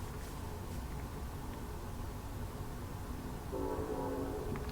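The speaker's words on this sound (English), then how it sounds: "Oh, I hear the train." A train rumbles past with a steady low roar, and a horn sounds near the end, held over the rolling noise.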